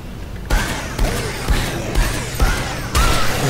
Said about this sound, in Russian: Контрольный выстрел